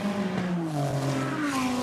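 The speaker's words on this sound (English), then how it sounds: "Cars now on their first flying lap." Sports race cars on a flying qualifying lap at the 2017 Mobil 1 SportsCar Grand Prix, engine notes sliding down then climbing again as they pass at full speed, moderately distant and continuous.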